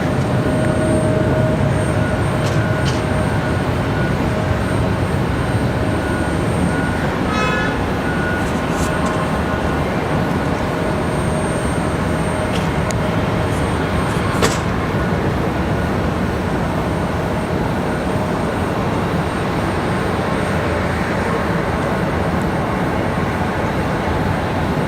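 Jet airliners around Raleigh Durham International on a windy day, with a continuous loud engine rumble and roar holding steady from start to finish, a faint tonal whine above it and a few brief clicks.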